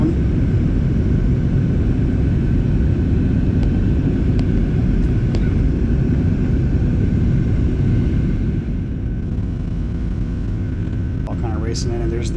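United airliner cabin noise while circling to land near Chicago, a loud steady low roar and rumble filling the whole stretch, with brief faint sounds near the end.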